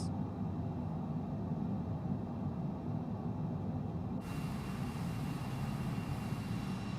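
Bombardier CRJ700 regional jet engines idling in Microsoft Flight Simulator 2020, a steady broad low rumble with even airflow hiss, continuous and unchanging, with a slight brightening of the whine partway through.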